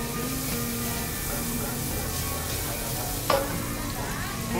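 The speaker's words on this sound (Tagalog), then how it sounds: "Lagyan ko yung bawang, garlic." Garlic frying in a pan in a busy eatery kitchen, a constant close sizzle with a sharp clink of a utensil partway through.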